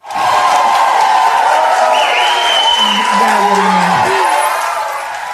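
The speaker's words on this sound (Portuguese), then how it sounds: "salva de palmas" Small studio audience cheering and clapping to welcome a guest on a talk show, a loud continuous burst with whoops and voices mixed in, tapering slightly at the end.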